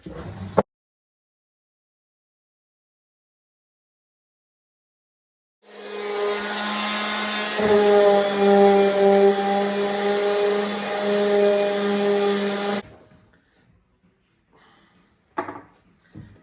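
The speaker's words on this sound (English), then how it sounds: "we're gonna get the sander, 220 grit sandpaper, and give this a little boost." A power sander with 220 grit sandpaper runs on wood, starting after a stretch of silence and whining steadily and loudly for about seven seconds before cutting off, followed by a few faint knocks.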